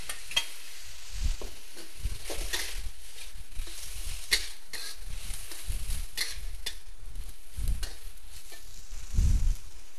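Shredded pork and pickled mustard greens stir-fried in a wok, with a steady sizzle broken by scraping, clattering stirs of a spatula at close range and no talking.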